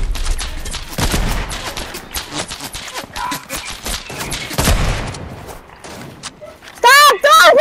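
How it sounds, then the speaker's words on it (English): Video game gunfire: dense bursts of rapid shots and chaotic action sounds, loud and continuous, with a voice reacting over the mayhem and a sharp electronic effect near the end. "I'm just getting shot at from everywhere"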